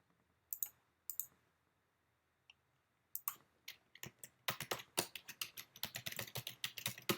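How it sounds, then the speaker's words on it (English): Fingers type a password on a computer keyboard, a few isolated key clicks at first, then a quick run of rapid, close keystrokes. "I'm going to log in my hosting service and then type the password."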